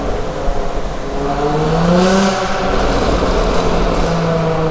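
A Jaguar F-Type S's loud exhaust, valves open, revs and roars up through rising engine tones, close and steady, with a brief swell in the middle.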